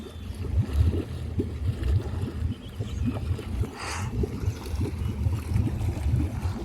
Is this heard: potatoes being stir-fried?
no